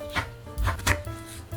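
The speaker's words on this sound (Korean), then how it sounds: "당근도 채를 썰어주세요." A knife cuts carrots into thin julienne strips on a board, giving four or five quick, close, dull chops in a short burst.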